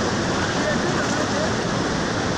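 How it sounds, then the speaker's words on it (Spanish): The Apurímac river rushing below the village of Surimana in Peru, with a small waterfall on a stream beyond, a steady loud broadband roar of churning water without a break. "Vemos allá al fondo un pequeño riachuelo con una tipo catarata."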